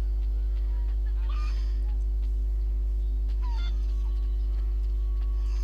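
Chicken clucks and squawks from Assassin's Creed Liberation gameplay, a few short calls around the middle and later over a steady low game hum, with no talk.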